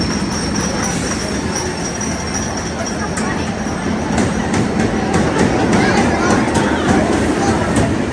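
A roller coaster train rumbles and clatters steadily along its track, a constant loud roar with rhythmic clicking of wheels over rails.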